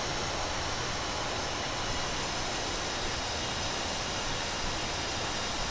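Airbus A320 engines in Microsoft Flight Simulator roar as a steady, dense broadband rush, loud and unbroken throughout, with no talk.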